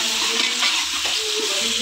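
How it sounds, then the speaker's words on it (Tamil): Tomatoes soften with ginger and garlic in a hot pan, crackling and sizzling steadily up close while a spoon stirs through them in short scrapes, with no voices. "இஞ்சி பூண்டு வதங்கினதுக்கு அப்புறம் தக்காளி சேர்த்துக்கிறேன். தக்காளி நல்லா வதங்கட்டும்."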